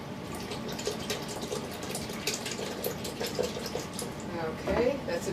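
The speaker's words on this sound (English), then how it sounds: "I'm just going to pour some in, so we don't need to really measure too much." Coconut milk poured into a Vitamix blender, a continuous splashing, gurgling pour with a slight rise in intensity near the end, while someone speaks quietly.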